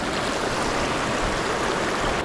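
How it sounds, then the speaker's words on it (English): A mountain river stream in the Colorado alpine rushes in a dense, steady wash of flowing water, loud and close while water is being collected, with no voices. "grabbing some water in a river stream"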